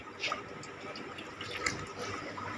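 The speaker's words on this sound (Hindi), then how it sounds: "भैंसों पानी मारे।" Water splashed over buffaloes in a village as they are washed: soft, intermittent splashes and drips at moderate distance over a steady background hiss.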